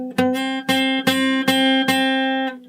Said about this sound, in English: or buzzy kind of sounds